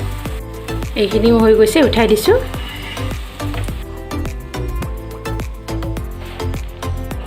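Boondi batter sizzles in hot oil, a steady crackling fry running throughout with sharp scraping and tapping of a utensil, while someone talks over it.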